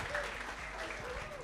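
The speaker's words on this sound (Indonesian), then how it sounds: "Beri tepuk tangan untuk kita semua." Very faint applause from a seminar audience on organisational transformation, soft, steady and distant clapping with a murmur of voices mixed in.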